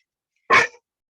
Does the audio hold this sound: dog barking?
yes